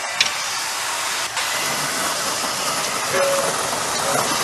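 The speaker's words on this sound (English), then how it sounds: "You can hear the water coming through the pipe." A steady, loud rushing hiss of water forced through a pipe driving a turning wheel and main belt, continuous throughout with a faint whistle near the end.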